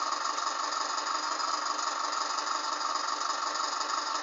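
A tractor engine in the Farming Simulator 2009 video game drones at a steady, continuous idle, an even synthetic hum with no talk over it.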